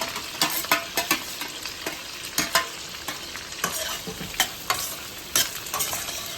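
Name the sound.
stirring onion, green chilli and curry leaves in pan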